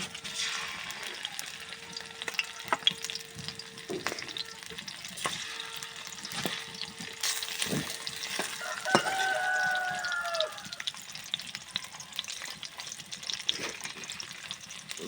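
Pieces of snakehead (shol) fish fry in hot oil with a steady, close sizzle and crackle, broken by occasional clinks and stirs, while a rooster crows faintly in the background.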